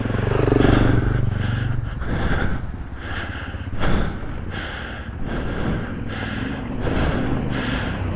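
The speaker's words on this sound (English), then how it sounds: "that's the enduro rider. Trials bikes." A trials motorcycle ridden by an enduro rider on a slippery, muddy trail revs in repeated bursts, the engine rising and falling in uneven pulses at close to moderate distance.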